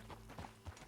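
Horse hooves clip-clop in a brisk, uneven run through a canyon in the Red Dead Redemption 2 video game, a few soft, low thuds heard faintly and close.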